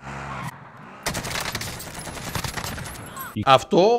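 Bursts of gunfire in Call of Duty Warzone after a player jumps out of a moving vehicle, with a sharp opening shot, a dense stretch of rapid fire and a few loud final cracks, close and punchy.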